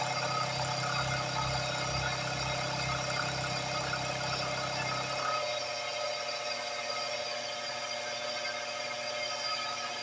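A Unimat DB200 lathe fitted with a vertical milling device runs with a steady high whine and motor hum; about halfway through, the low rumble drops away and a thinner whine continues. It is close and constant, with no talking.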